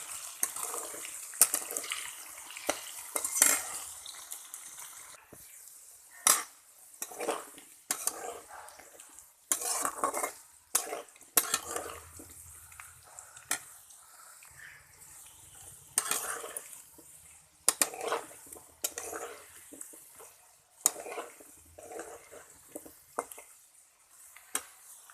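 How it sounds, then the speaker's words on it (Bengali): Potatoes fry in oil in a pan, making a soft, steady sizzle broken by the irregular scrape and clatter of stirring, all fairly quiet with no talking. "আলুটা ভাজা হয়ে গেছে, এবার তুলে নেব।"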